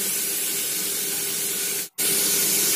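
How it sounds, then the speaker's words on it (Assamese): Chopped beans and carrots fry in a pan with a loud, steady hiss of sizzling that drops out for a brief moment near the end and then resumes. No one speaks. "অলপ সময় এইখিনি আমি ভাজি ল'ম"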